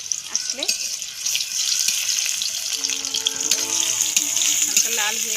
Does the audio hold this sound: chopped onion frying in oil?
yes